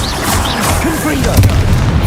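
A Confringo blasting spell going off in Hogwarts Legacy: a loud, booming burst with crackling magical effects, layered with voices and other busy game sounds over a couple of seconds.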